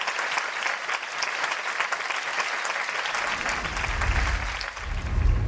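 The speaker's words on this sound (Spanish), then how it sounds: "le pido un aplauso aquí a Jonathan Bellez, por favor." An audience at a film festival screening of a documentary on director Ishiro Honda breaks into sustained applause, dense steady clapping that fills the room and swells slightly toward the end.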